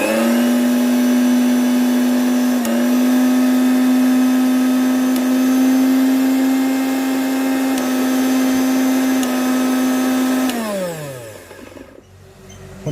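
An ELEVATE 550W mixer grinder motor runs loud and steady in a kitchen, a constant high whine with a slight pitch step partway through, then winds down and stops near the end.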